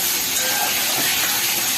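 Ginger, garlic and chilli paste sizzles in a pan, a loud, dense hiss of hot oil that holds steady throughout, with no voices.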